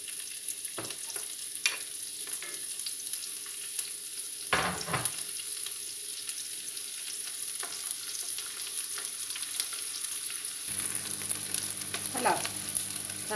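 Onion frying in a pan for an Alsatian choucroute, stirred regularly, with a constant bright hiss and occasional scraping stirs that grow louder toward the end, close and alone.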